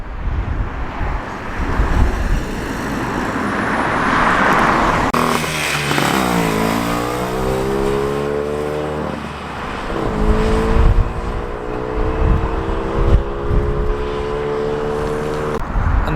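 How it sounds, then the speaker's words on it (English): A vintage Wolseley 1660 lorry approaches and drives past outdoors, its engine note rising then falling in pitch as it passes close by, loud with wind buffeting on the microphone. "Wolseley 1660 flyby"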